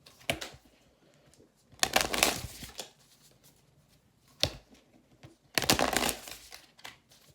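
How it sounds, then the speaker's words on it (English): Stiff tarot cards are shuffled close up in several bursts of riffling and shuffling separated by brief pauses, with no speech. "These cards are so hard to shuffle."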